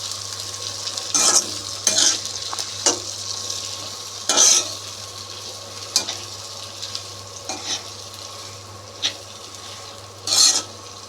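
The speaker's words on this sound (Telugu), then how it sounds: "ఇప్పుడు వీటిని బాగా కలుపుకుందాం" Carrots, corn and peas being stirred in a pan for noodles, a spoon scraping and clacking in irregular strokes over a soft steady sizzle, no voices.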